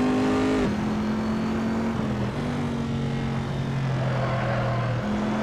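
A Corvette C7R race car engine in the racing game Assetto Corsa drones loudly and continuously at high revs, its steady tone dropping and rising again with gear shifts, with no talking.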